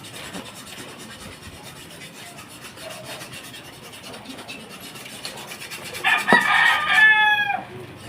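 A rooster crows loudly and close by near the end, following a stretch of quieter clucking and scratchy rustling from chickens with no talk.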